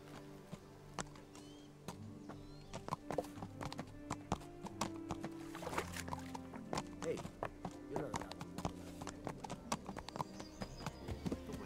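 Horse hooves clip-clop in uneven, repeated steps in the medieval video game Kingdom Come: Deliverance, with an occasional whinny, close and moderately loud.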